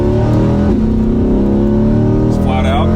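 A 2021 Chevrolet C8 Corvette 3LT with a mid-mounted engine accelerating flat out, a loud, close engine note climbing steadily with rising harmonics, a brief shift-like break partway through, and a voice speaking over it.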